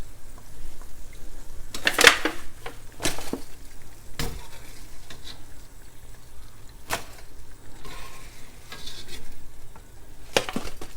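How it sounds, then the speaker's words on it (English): Doughnuts frying in hot oil, a steady low sizzle broken by sharp clinks and scrapes of a utensil against the pan, with no voices. "So I'm going to continue frying everything till it's done."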